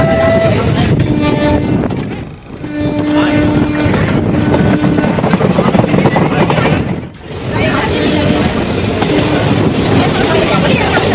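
A Haridwar–Rishikesh passenger train rolls through the Uttarakhand hills, its loud continuous rumble and wheel clatter filling the cabin, with two brief dips where the noise drops before surging back.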